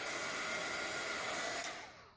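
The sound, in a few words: dryer quickly drying outer coat of paint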